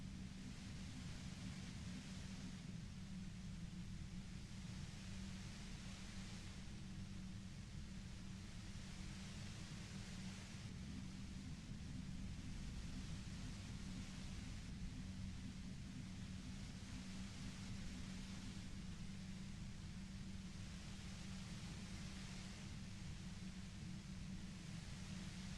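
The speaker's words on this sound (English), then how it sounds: "I hope you guys like the white noise ASMR as well." Steady white noise ASMR, a broad even hiss with a low rumble underneath that holds for the full stretch with only slight slow swells, uninterrupted and with no talking.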